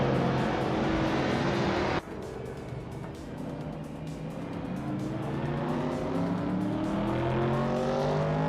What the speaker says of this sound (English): Immobius is driving a 1972 BMW 2800 CS